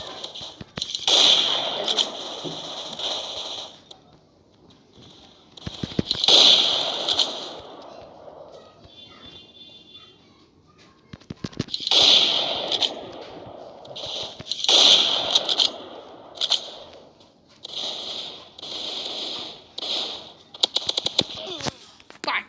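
Sniper rifle shots in a video game ring out as several sharp, loud cracks spaced a few seconds apart, each followed by a short tail, with game noise between them.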